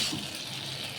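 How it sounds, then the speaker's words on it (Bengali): Fried potatoes being stirred into Manchurian sauce in a pan, a short burst of steady sizzling with light scraping, alone with no talk. "এবার ভেজে রাখা আলুগুলো দিয়ে ভালো করে মিশিয়ে নেব আলুর সাথে মশলাটা"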